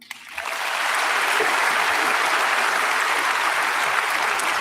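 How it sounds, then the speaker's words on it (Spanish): Sustained ovation at the end of a speech by Putin, a large crowd clapping in a dense, steady roar that swells in quickly and holds without speech. "Lógicamente, ovación sobre el final."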